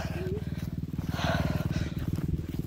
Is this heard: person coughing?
no